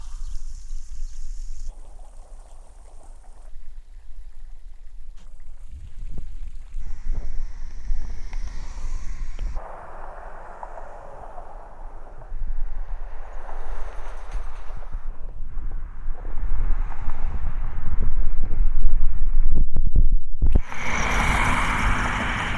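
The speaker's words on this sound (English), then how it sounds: "Now for the ANC test, we're next to this water fountain." A water fountain splashes in a steady hiss outdoors, with rushing noise and gusts against the microphone that shift in level as the listening setup changes, and a brief loud burst near the end.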